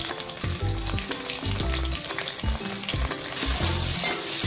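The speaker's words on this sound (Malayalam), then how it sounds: "ചെറുതായിട്ട് അരിഞ്ഞ പച്ചമുളകാണ്" Finely chopped green chilies fry in hot oil for a quail egg roast, with a bright, dense sizzle over rhythmic low scraping strokes of a spatula, close and continuous, with nobody speaking.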